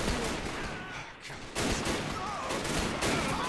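Dense musket volleys crackle through a war battle video game set around a fort in a fictional 1912 American invasion of Canada, sustained and fairly loud with a brief lull midway before the firing swells again.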